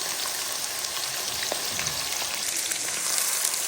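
Onions sizzle in hot oil, a steady, even crackle that holds at a moderate level with small pops scattered through it and no voices.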